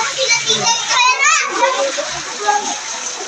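Floodwater splashing and sloshing into a house during rain, a busy wet spatter running throughout with children's voices and talk over it.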